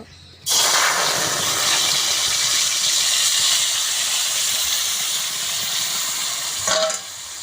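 Tomato paste hits hot mustard oil in a wok with a sudden loud, steady hiss of sizzling and steam that holds strong for several seconds and eases slightly near the end.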